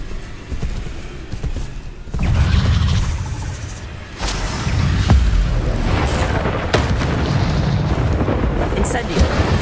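A fire spell is cast in Hogwarts Legacy during a battle with a deadly great spider, bringing a loud roaring, eruptive burst that swells near the start and again midway. The whoosh then holds on as sustained fiery rumble.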